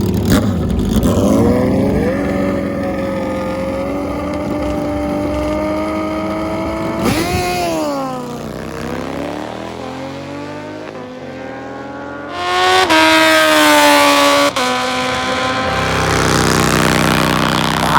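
A Suzuki Hayabusa and a Harley bagger launch side by side at a drag strip, engines droning loudly then revving in rising sweeps as they pull away, followed by a second surge of high, roaring acceleration.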